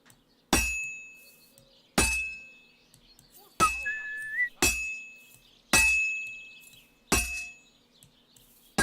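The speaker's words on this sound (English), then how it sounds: "Now take the hammer and try hitting it a few times." Six sharp metallic clangs at steady intervals as a hammer strikes a sword on an anvil in the video game Kingdom Come: Deliverance II, each ringing out briefly with a bright tone, plus a short rising whistle in between.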